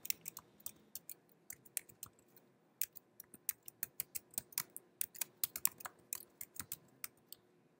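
Rapid typing on a computer keyboard while filling in an online account form, with irregular bursts of crisp key clicks and short pauses, close and fairly quiet, with no voices.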